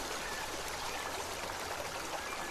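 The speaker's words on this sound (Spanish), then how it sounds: "Me gusta el sonido del agua, la cascada." A mountain waterfall pours steadily, a faint, broad, continuous hiss of rushing water with no breaks or other sounds.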